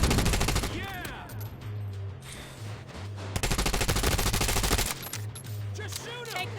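Rapid bursts of gunfire crackle in the mobile shooter game Tom Clancy's The Division Resurgence, dense volleys with short pauses over a low pulsing game soundtrack.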